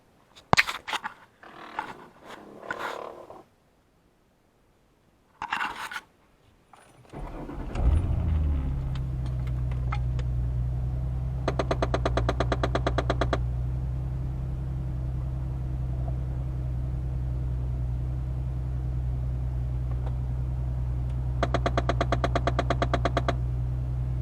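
A faulty HVAC blend-door actuator in a 2008 Ford Mustang clicks in two rapid bursts of repeated ticks over the steady hum of the running car, after a few knocks and thumps at the start.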